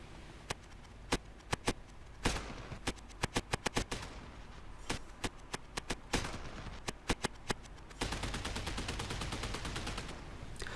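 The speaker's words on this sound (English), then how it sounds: "a lot of rapid firing from two double 30mm turrets" Rapid bursts of 30mm cannon fire from two twin naval turrets in War Thunder, sharp repeated shots in quick clusters over a steady roaring background, ending in a dense continuous volley.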